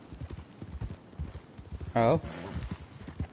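A single horse pulls a wagon along a road, its hooves clip-clopping in a steady, close rhythm while people talk over it and a voice briefly exclaims.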